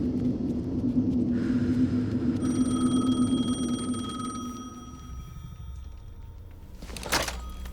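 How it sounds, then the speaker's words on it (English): A telephone rings inside the video game Alan Wake 2, its repeated electronic trill sounding over a low, rumbling ambient background and followed by a brief sharp knock. "The phone again."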